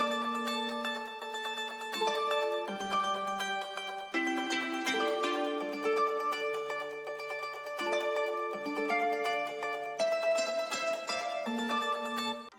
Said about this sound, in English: I believe I played this on my acoustic guitar